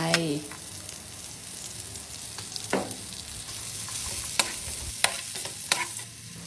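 Onions sizzling in butter in a hot pan with a steady frying hiss, punctuated by a few sharp clinks and scrapes of a utensil stirring.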